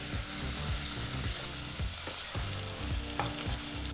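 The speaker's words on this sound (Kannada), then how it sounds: "ಈರುಳ್ಳಿನ ಎಣ್ಣೆ ಮತ್ತು ತುಪ್ಪದಲ್ಲಿ 2 ರಿಂದ 3 ನಿಮಿಷ ಮೀಡಿಯಂ ಫ್ಲೇಮ್ನಲ್ಲೇ ಚೆನ್ನಾಗಿ ಫ್ರೈ ಮಾಡ್ಕೋಬೇಕಾಗತ್ತೆ" Onion fries in ghee and oil over a medium flame, giving a continuous close sizzle broken by regular scraping strokes of a spoon stirring in the pan.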